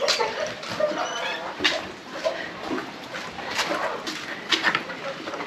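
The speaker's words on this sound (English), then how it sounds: "What are you barking at?" A dog on a farm in the evening, whimpering and giving short yelps and barks in repeated bursts, fairly close, with soft rustling in between.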